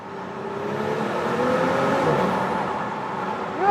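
Audi S5 engine revving inside a tunnel, heard with the window lowered: a steady, loud, full drone that swells and holds through the pass, with a sharper rise right at the end.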